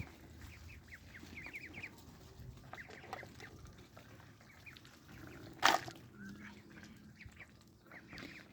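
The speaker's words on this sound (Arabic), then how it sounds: "البط قاعد يتمشى على السطح في الشمس." Ducks and chickens walk around a sunny rooftop with soft quacks and clucks, and one sharp, brief noise breaks in partway through.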